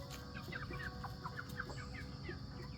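Young Onyx chickens mingling with a flock give soft, repeated clucks and chirps over a steady background hum, several birds calling in quick irregular succession.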